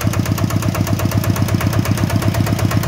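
A small motorcycle engine idles steadily up close, its low, even thumping pulse running loud and unbroken throughout with no voices over it.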